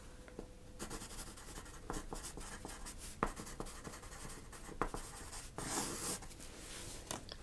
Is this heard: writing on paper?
yes